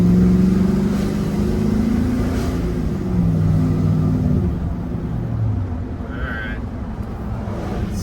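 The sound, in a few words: old truck engine running through its muffler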